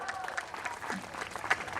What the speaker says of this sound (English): Abhinav Bindra sir, give him a big round of applause.